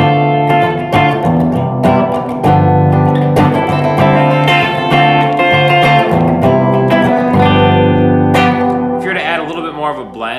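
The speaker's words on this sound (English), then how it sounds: "This is modeled after an Accutronics 6-spring tank reverb" An electric guitar through an EHX Cathedral reverb pedal modeling an Accutronics 6-spring tank rings out chords and single notes drenched in a splashy, spring-style reverb, with a long shimmering tail as the playing trails off.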